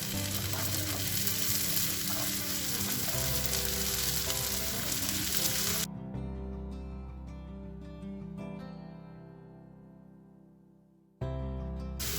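Onions frying in oil hiss loudly and constantly as carrots are tipped into the pan, then the sizzle briefly drops to a quieter simmer with scraping before a loud burst returns near the end, with no speech.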